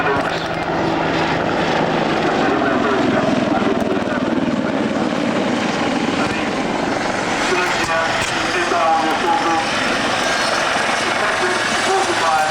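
Chinook helicopters fly at the Middle Wallop Airshow with a continuous loud, throbbing rotor and engine roar, steady throughout, while an announcer talks over it.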